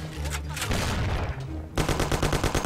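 Gunfire in the video game Mafia: a burst of shots opens, then a brief lull, then rapid, evenly spaced automatic fire rattles loud and close to the end.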